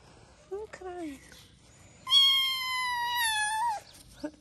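A stray kitten meows several times, two short plaintive cries early, then one long drawn-out meow, heard close and clear in a quiet setting.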